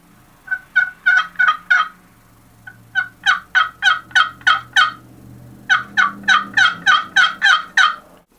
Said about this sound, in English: I'm going to work the box against the paddle